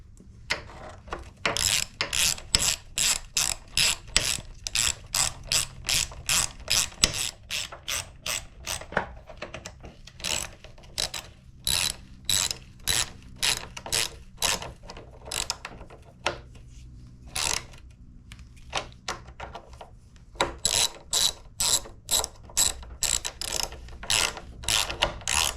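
A hand ratchet tightens the carburetor bolts on a rusty Predator 212 small engine. The close, crisp pawl clicks come in rapid bursts of repeated strokes, stopping briefly between passes, with no talking.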